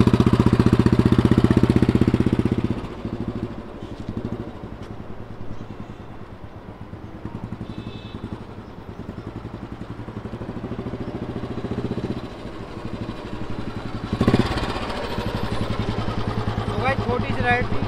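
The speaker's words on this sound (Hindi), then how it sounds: "सिंगल किक में गाड़ी स्टार्ट हुई है नॉर्मल, अब इसकी टेस्ट करते हैं।" A 1999 Royal Enfield Bullet single-cylinder motorcycle, modified to a Classic look, thumps loudly at first, then settles into a steady, closer mid-range engine beat while riding, swelling again near the end; someone talks over it.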